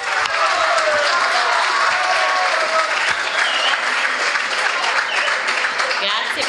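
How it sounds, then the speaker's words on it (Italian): Students clap in sustained, dense applause with scattered cheers at an Erasmus Days school event, loud and steady throughout without a break. "Grazie per questo applauso spintaneo."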